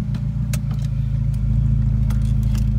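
Steady engine drone of a BMW car on the move, a continuous low rumble with a constant drivetrain hum and faint road noise, fairly close and loud throughout, with no talking.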